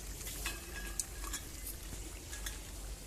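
Spice paste of chilli, turmeric, cumin and meat masala being stir-fried in a pot for a picnic meat curry: soft, quiet scraping and light metallic clinks of stirring over a faint background hiss.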